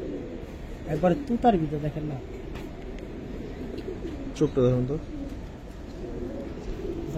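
Giribaz pigeons coo in low, repeated bursts close by, heard under someone talking in Bengali about the birds.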